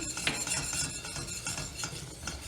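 A spoon stirs a flour roux seasoned with salt and black pepper in a pan, clinking and scraping in a steady rhythm under a soft hiss.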